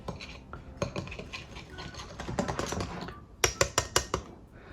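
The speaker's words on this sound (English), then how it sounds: "Now I want to whisk this together for about 30 seconds to a minute, just until everything is combined and slightly foamy" Rapid clicking taps of a whisk against a bowl while beating wet cake batter ingredients for a gluten-free apple cake, continuous and close, with sharper, louder strikes near the end.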